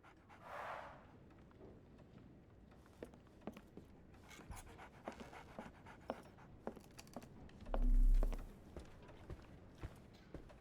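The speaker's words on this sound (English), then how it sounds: "So, Barnes has a dog now" A dog pants steadily in the Victorian-era detective game Sherlock Holmes: The Awakened, quick soft breaths over quiet ambience with scattered small clicks and taps and a brief louder rustle.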